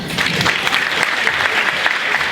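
An awards event audience claps steadily for an honoree, a dense, even wash of applause from a crowd throughout the short stretch.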